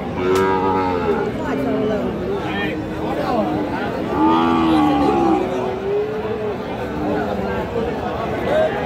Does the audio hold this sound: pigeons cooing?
no